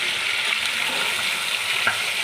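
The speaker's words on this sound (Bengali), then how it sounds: "তো সাদা তেল দিয়ে চিকেনগুলোকে ভালো করে ভেজে নিচ্ছি" Chicken pieces frying in white oil, giving a steady, close sizzle that holds evenly through the short stretch.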